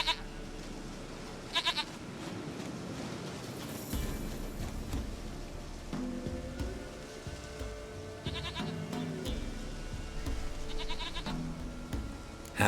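Goat bleating in The Witcher 3: Wild Hunt, several short wavering bleats at moderate distance, repeating over a soft ambient bed, with no talk.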